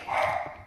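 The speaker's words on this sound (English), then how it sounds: "please pardon my dogs." A dog gives one brief bark or yelp indoors, close but fairly quiet, with no other sound around it.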